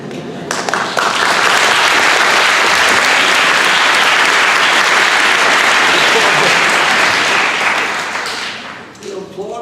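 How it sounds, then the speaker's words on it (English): Lecture audience applauding in a sustained, loud round of clapping that swells quickly and fades out near the end, followed by a speaker beginning to talk. "You're applauding because I'm married?"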